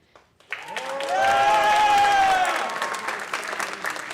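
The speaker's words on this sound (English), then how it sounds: "This is all clap-worthy." Audience at a high school spring band concert bursts into applause, swelling quickly and holding for a couple of seconds before tapering into scattered claps.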